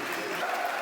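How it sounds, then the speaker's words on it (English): Brief burst of clapping from a full house of football supporters at a Millwall versus Stoke City match, a dense even wash heard only for a moment. "Casper Denor also to a full house round of applause"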